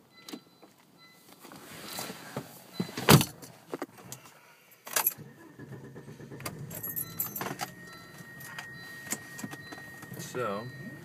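Keys jangle close by as someone gets into a car, with rustling, thumps and shifting movement around the seat, plus a faint voice in the background.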